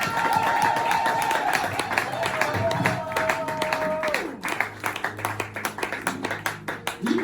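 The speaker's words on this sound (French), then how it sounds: "Est-ce que tu peux acclamer Jésus s'il te plaît?" Church seminar audience cheering and clapping for Jesus, a steady wash of crowd applause with a tonal voice or instrument line held over it, rhythmic claps growing more distinct toward the end.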